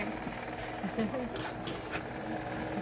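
A marble polishing machine runs with a continuous mechanical whir and rhythmic buzzing at moderate distance while people talk over it.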